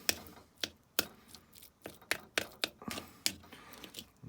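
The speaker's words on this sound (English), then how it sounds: "Give it a bit of a chop up." A knife chops brown crab meat scraped from a Cromer crab shell, about a dozen sharp, irregular cuts on a board, close and crisp.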